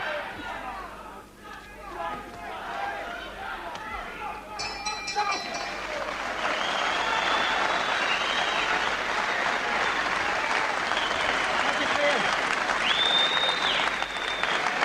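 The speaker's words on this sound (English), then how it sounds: "they're really cheering them on because both fighters have deserved the applause as well" Boxing crowd at a neutral Alfreton venue applauding and cheering two fighters, a sustained, broad roar of clapping and shouting that builds and holds, with voices and whistles mixed through it.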